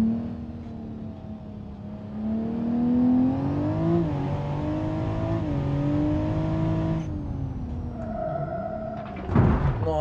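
A BMW Z4 mod in the BeamNG.drive driving game, its engine droning and climbing through revs on a twisty road, pitch sweeping up and down, ending with a sudden clatter, no talk.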